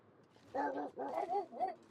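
A dog gives a quick run of three or four harmonic barks and yips, close and fairly loud, over a quiet room background.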